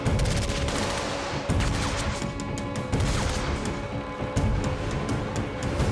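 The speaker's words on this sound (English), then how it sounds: "The sniper misses a few shots and reloads." Sniper rifle shots in a tense action scene, with repeated sharp cracks and crashes layered over a dense, loud, continuous rumble of background noise throughout.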